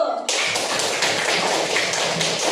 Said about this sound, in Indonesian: Aplaus dulu